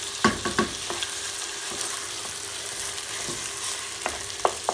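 A chicken mixture for chicken Maharani cooks slowly on low heat in a pan, giving a steady soft sizzle with a few clinks of stirring near the start and end, and no talking.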